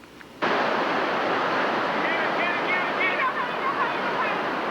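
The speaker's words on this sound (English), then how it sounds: "You didn't have to see the water to know it was raging through the area." Raging floodwater rushing through a street during January 1998 flooding in Roaring Creek, Avery County, NC and Carter County, TN: a sudden loud, steady broadband rushing roar that continues unbroken, with faint voices in the background.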